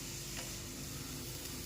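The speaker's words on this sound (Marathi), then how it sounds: "10 मिनिट हा किस आपल्याला चांगला परतून घ्यायचा आहे तुपासोबत।" Grated carrot fries in ghee for gajar halwa, giving a steady, close, unbroken sizzle with faint stirring scrapes throughout; nobody speaks.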